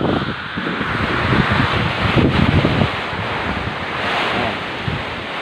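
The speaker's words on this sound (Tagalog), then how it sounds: "Matindi po yung hangin talaga, sobrang lakas." Loud, roaring typhoon wind buffets the microphone in strong gusts, a continuous rushing howl with surging peaks and no voices.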